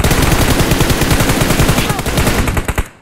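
Rapid automatic gunfire from the PUBG Mobile battle royale game, loud and close, bursts of dense repeated shots rattling almost continuously for three seconds before cutting off.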